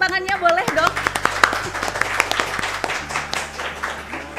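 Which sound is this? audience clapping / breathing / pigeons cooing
audience clapping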